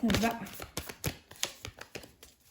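A deck of Cosmic Cycle tarot cards is cut by hand, giving a few soft shuffling slaps and card snaps close up, with talking over the start.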